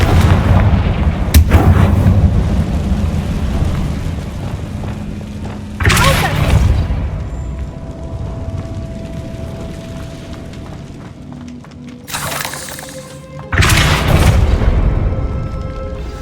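Confringo explosive spell blasting a barricade in the Hogwarts Legacy video game: several loud booming blasts, the sharpest around six, twelve and fourteen seconds, each rolling off under a low rumbling game backdrop with faint voices.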